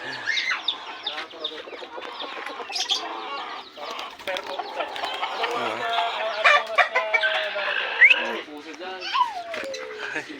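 Chickens on a backyard farm cluck busily close by, with a rooster crowing and scattered chirps over a continuous chorus of fowl while people talk in the background.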